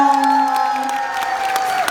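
Audience at a 2016 preschool arts festival in Jangwi 3-dong cheers and claps after a children's performance, a steady mix of applause and excited shouts under bright musical tones.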